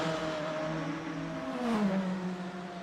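Lamborghini V8 race car engine in the video game Le Mans Ultimate at Imola, a steady loud drone with a rising then falling pitch as the engine revs, continuous throughout with no talk.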